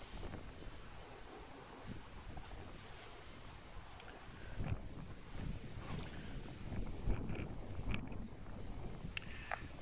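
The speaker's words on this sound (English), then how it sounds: "Just a little wind here" Wind gusting outdoors around a parked 2008 Mitsubishi Delica D5, a steady broadband rumble and buffeting against the microphone that swells in gusts, with no talking.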